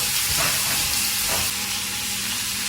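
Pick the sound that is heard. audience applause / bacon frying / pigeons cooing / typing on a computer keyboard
bacon frying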